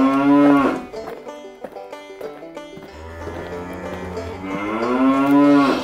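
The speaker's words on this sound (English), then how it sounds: "The farmer collects the cows from the field and takes them to the shed to be milked." Cattle on a farm moo loudly and close by: a long, rising call opens, softer lowing follows in the middle, and another drawn-out moo swells at the end.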